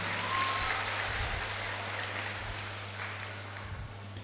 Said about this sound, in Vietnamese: Vậy cho thầy MC một tràng pháo tay thật lớn đi.